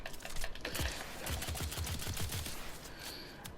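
Rapid crossbow shots from the video game Warframe, a quick run of sharp, clattering impacts that repeat in a tight rhythm for about two seconds and then stop. The shots sound loud and close over a steady game background.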